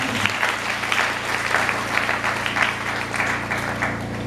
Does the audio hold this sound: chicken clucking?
no